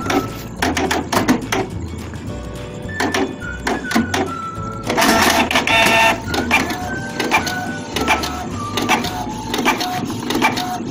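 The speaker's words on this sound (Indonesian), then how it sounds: "Saya tes print dari sini saja." A Canon IP2770 inkjet printer runs a test page at close range, with mechanical whirring of the print head carriage, repeated clicks and thunks of the paper feed, and brief motor whines in an irregular rhythm.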